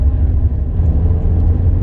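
An MG TF car drives along in a loud, steady low rumble of engine and road noise, heard from inside or close by, with no break in the sound and no one speaking.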